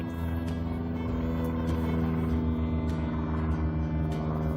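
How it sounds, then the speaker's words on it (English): An airplane flies overhead near a garage where a 1958 Plymouth is being worked on, a steady droning engine rumble with a strong low hum, continuous and moderately loud, no voices. "Now it's time to listen to an airplane flying overhead."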